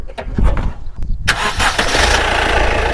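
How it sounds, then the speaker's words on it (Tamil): A few cranking bursts lead into a Honda WR-V diesel engine catching and settling into a loud, steady rumbling idle, close by. "இன்ஜின் ஸ்டார்ட் பண்ணி உங்களுக்கு காமிக்க போகிறோம்."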